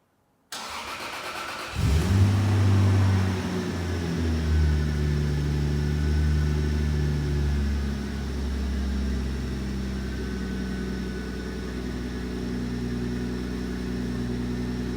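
Cold start of a Toyota Supra with a manual gearbox and single turbo conversion: a loud starter crank, then the engine catches and settles into a steady, rumbling idle, close by and alone.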